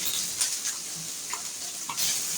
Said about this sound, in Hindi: प्याज को हल्का सा फ्राई करना है